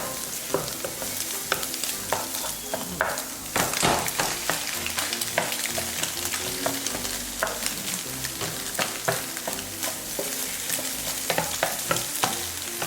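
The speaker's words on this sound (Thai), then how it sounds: "แล้วก็เจียวกระเทียมลงไปเลย จนกระเทียมหอมนะคะ" Garlic fries in oil in a pan with a busy, crackling sizzle full of rapid pops and spatters, while a utensil clicks against the pan now and then throughout.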